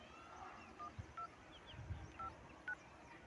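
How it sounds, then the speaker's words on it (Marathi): A phone number is keyed in: a handful of short, faint touch-tone beeps spaced irregularly over a quiet background. "तर मित्रांनो, डायल करतोय नंबर."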